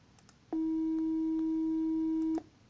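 Pure sine tone generated at 320 hertz: one steady, unwavering electronic hum lasting nearly two seconds, switching on and off sharply with even loudness throughout.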